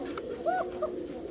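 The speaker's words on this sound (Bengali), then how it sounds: "এটা কিন্তু অরিজিনাল বাসিরাজ, দুইটারই ডাক আছে" A pair of Bashiraj pigeons coo in short, soft rising-and-falling calls, a few separate phrases close by over a steady low background hum.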